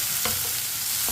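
Tomatoes sizzle in a pan for aloo baingan, a dense continuous frying hiss with a couple of soft stirring scrapes, close and without voices.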